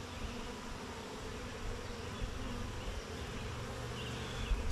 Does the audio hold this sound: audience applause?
no